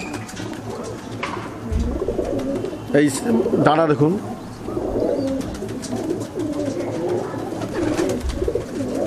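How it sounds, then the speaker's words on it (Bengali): A female pigeon's soft, low cooing murmurs close by, mixed with wing flutters and someone speaking over it throughout. "এই একটা মাদি পায়রা দেখাচ্ছি দেখুন"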